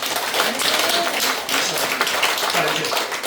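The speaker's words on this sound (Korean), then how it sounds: "여러분 박수로 하는 겁니다" Congregation at a Korean church Easter service clapping after a baptism, a dense, steady burst of many hands applauding throughout, with voices mixed underneath.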